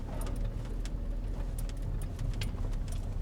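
A car creeps slowly in first gear along a narrow forest road, its low engine rumble steady and close throughout, with faint rattling and jingling from inside the cabin.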